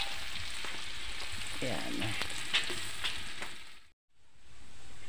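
Plenty of chopped onions sizzle as they fry in a pan, with a constant crackling hiss and a few light stirring knocks. A brief word is spoken partway through, and the sizzle drops out for a moment near the end.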